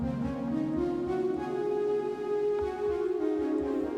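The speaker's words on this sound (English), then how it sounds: "it's a synthetic flute sound" A synthetic, non-acoustic flute patch on an Ableton Move plays a soft, sustained ambient line, steady and close, with a faint pulsing texture underneath.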